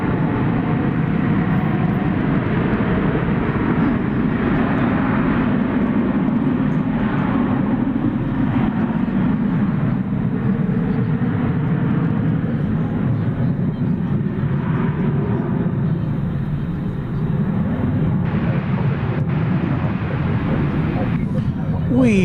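Continuous low jet rumble from a Boeing 737 MAX 9 airliner on a night flight in from San Francisco, steady and fairly loud throughout, with talking heard alongside it.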